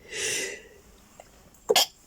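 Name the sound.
sneeze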